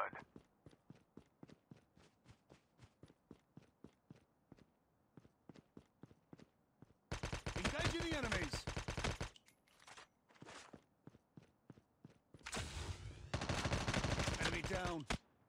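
Gunfire in the mobile shooter Call of Duty Mobile: a steady run of quick single shots ticking for several seconds, then two loud, dense bursts of automatic fire.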